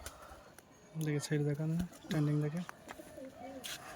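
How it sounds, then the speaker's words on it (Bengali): A newly bought male pigeon coos in two close, throaty bursts of repeated notes, followed by a softer coo, with faint voices in the background. "এটা নতুন পায়রা"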